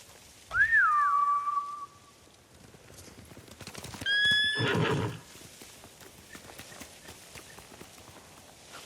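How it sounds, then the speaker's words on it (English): Horses in the video game Ghost of Tsushima, samurai mounts, give a loud neigh early on. A second whinny-like cry follows with hooves clip-clopping at a gallop, then quieter footfalls fade. "Bastards scared off the horses."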